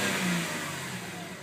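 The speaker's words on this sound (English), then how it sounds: "you can hear some with the exhaust burble, which is quite pleasant actually" A 2008 Mercedes C300 engine revs with a low exhaust burble, a steady, fairly loud drone that slowly eases off, with no one talking.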